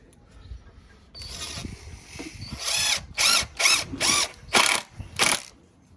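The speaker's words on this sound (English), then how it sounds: "So I'm just doing little pilot holes." A power drill boring small pilot holes into wood while building a wooden planter box, heard as a stretch of steady whirring followed by five short, loud, evenly spaced bursts, close by with no talk.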